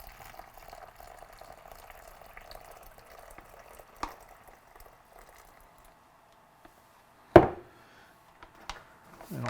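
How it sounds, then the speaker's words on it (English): A spoon stirs Readywise multigrain breakfast mix into boiling water, giving soft, faint liquid swishing and a few light scrapes, then one sharp clink of the spoon against the container near the end. "So I'm going to take a spoon and just sort of stir it up in there"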